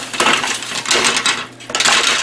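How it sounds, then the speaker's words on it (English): Plastic and metal parts of a torn-down egg incubator's turner being handled and fitted together, with three bursts of light clattering and clinking separated by brief pauses, close by. "Let's put the egg turner together."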